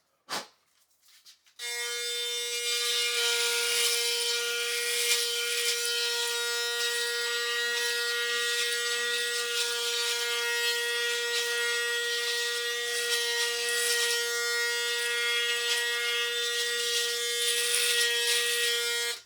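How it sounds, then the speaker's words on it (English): A Panasonic ARC6 electric shaver starts after a brief click and runs with a steady, loud buzzing hum that stays even and unbroken, close to the listener, with no talking. "in order to reach in such a narrow area on the chin, I will have to flip my shaver like so"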